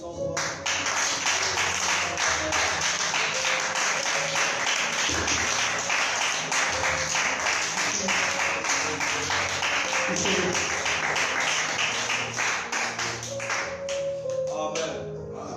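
A congregation applauding at a church healing conference, a sustained, dense wash of clapping that fills the room steadily for about fifteen seconds, with voices faintly mixed underneath.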